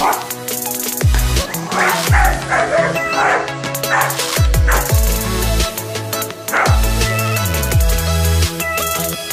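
Dogs bark and yip in a compilation of dog reactions to strangers and owners, loud repeated barks in irregular bursts with some whimpering, close to the microphone.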